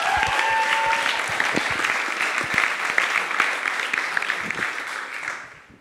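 Audience applause at a Le Wagon coding bootcamp demo day in Paris, dense, even clapping from a sizable crowd that holds steady, then fades out at the end.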